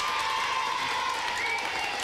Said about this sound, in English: I'd just like everyone here to give an applause to John.